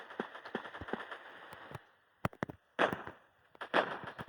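Firecrackers going off outdoors, a rapid crackling string of small pops followed by a few sharper, louder bangs with short gaps between them.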